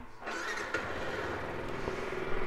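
A 2018 Yamaha YZF125R ABS motorcycle with a 125 cc engine and 600 miles on it cranks and fires up, then settles into a steady, fairly quiet close-up engine note with no talking.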